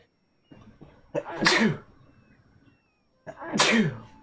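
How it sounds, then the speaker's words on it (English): Two loud, close sneezes from a man, the first preceded by a few short inhaling catches, separated by a brief quiet gap. "Sneezing all the time."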